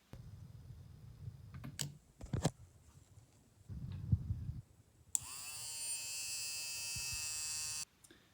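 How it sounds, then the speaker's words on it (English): A small DC motor, wired to a test circuit for a prototype launch igniter, whirs at a steady high whine for about three seconds, preceded by several clicks and handling knocks. "I tested the circuit with a DC motor"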